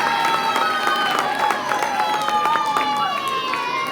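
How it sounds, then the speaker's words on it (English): An evening audience at a community lip sync show applauds and cheers as a judge is introduced. Busy clapping runs throughout under shouts, whoops and a voice speaking over the crowd. "Big round of applause for Adam Cardwell, our second judge tonight."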